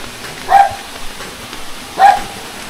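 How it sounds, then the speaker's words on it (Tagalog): Dogs barking near the entrance of a cave in South Cebu, reached along an overgrown path, two short sharp barks spaced well apart, moderately close, with no talking. "May mga aso."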